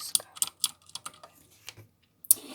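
Mechanical computer keyboard typing nearby, sharp clicky keystrokes in an uneven burst, a brief pause, then one last loud key press.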